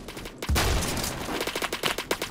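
A rapid, close burst of gunfire rings out from a Roblox gun, with a heavy opening shot followed by a fast, rhythmic string of sharp cracks that stay loud throughout.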